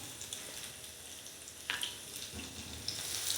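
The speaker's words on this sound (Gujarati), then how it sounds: "લસણ નાખી અને આપણે થોડીક વાર માટે સાતળી લેશું" Crushed garlic sautés with cumin in hot oil in a kadai. A soft, steady sizzle runs throughout, with a brief scrape or clink partway through. It is quiet and close, with no voices.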